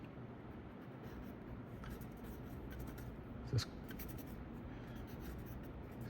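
A Sharpie marker drawing art on paper, a soft steady scratchy glide running the whole time, with one brief sharper tap or knock about midway; fairly quiet and close, no talking.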